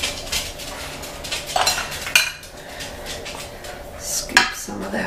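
A metal spoon scrapes and clinks against a baking dish while scooping apple cobbler, making several distinct taps and scrapes at close range with no talking.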